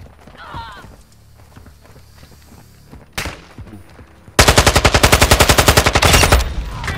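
Call of Duty MW2 gunfire rips out as a loud, rapid automatic burst of evenly spaced shots lasting a few seconds, after quieter in-game movement, footsteps and a single sharp crack.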